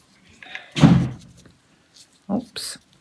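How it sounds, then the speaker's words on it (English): A door slams indoors with one loud, close thud, followed by fainter knocks and a short burst of voice. "Oops, doors are slamming."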